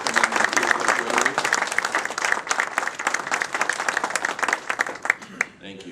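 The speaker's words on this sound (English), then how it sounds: "would you give them a round of applause?" A Rotary Club audience gives a sustained round of applause to welcome a new Board of Regents member, dense clapping throughout that thins out near the end.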